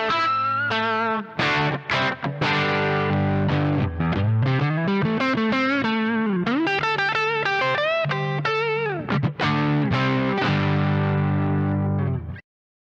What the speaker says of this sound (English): So instantly you hear a boost, there's a bit more distortion, and there is a bit more saturation.